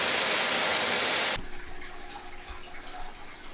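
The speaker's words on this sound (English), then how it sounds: "I'm just going to continue filling the tank until it's obviously full" Water gushes loudly from a hose into an amino acid test tank for about a second and a half, then cuts off abruptly, leaving a quiet room with faint low rumble and small trickles.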